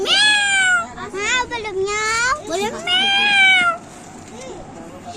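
A cat meows loudly and close by, several drawn-out rising and falling cries in quick succession, with a person talking briefly in between.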